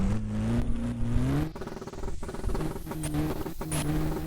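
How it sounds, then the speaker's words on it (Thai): A car in the Roblox video game accelerating hard through its gears, the engine pitch climbing in repeated sweeps with brief drops at each shift, loud and continuous. "นี่ผมพยายามแบบไล่เกียร์ให้เร็วที่สุดแล้วนะ โอ้โหรอบโหดจัดเลยคันนี้"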